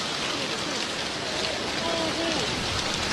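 Hail pours down during a storm in Saudi Arabia, a dense, steady hiss of countless impacts with no pause, and faint voices under it.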